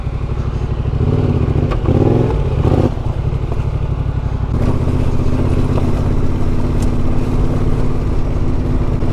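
A Yamaha Tenere 700 adventure motorcycle rumbles along a long countryside track at low pace, a loud steady engine drone with wind noise and some clattering bumps early on, continuous throughout with no speech.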